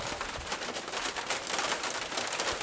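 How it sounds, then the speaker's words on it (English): Rain falls steadily outdoors near a corn patch and makes a dense, even hiss of drops on surfaces at moderate volume, with nobody speaking. "Now it's raining."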